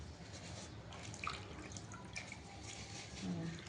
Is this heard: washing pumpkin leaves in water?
yes